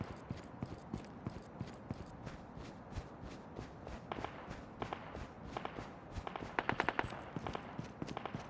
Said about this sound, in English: with the sound of gunfire being quite prolific